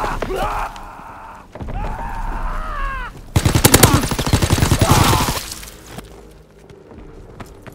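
An enemy strafing run in Call of Duty WWII: a loud roaring burst of rapid gunfire and engine noise sweeps through the middle, set between stretches of battlefield ambience and fading away afterward.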